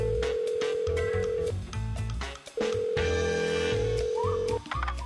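A phone being dialed in the video game Saints Row 2: a steady dial tone, then quick keypad tones, then a second long tone with more dialing beeps, clear and close with no talking.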